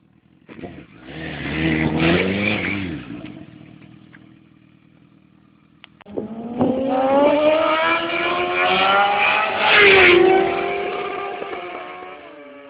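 A Honda CBR sport motorcycle engine revs in rising bursts, drops back to idle, then roars up again through climbing gears as the bike rides off, loud and close with no talk.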